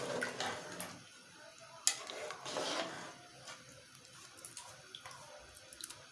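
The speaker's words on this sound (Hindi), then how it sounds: "ये तकरीबन हाफ मग्गे से थोड़ा सा ज़्यादा पानी मैंने डाला है इसमें।" Water poured onto potatoes in a cooking pot gives a brief gushing splash followed by softer trickles and drips, fairly quiet and close, with a sharp clink midway and no voices.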